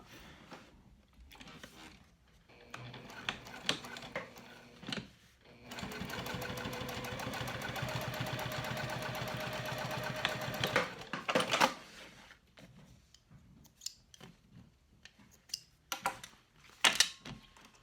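Sewing machine stitching a crossbody bag: a few short starts and clicks, then a steady close whir of rapid stitching for about five seconds, followed by scattered handling knocks and brief mechanical bursts.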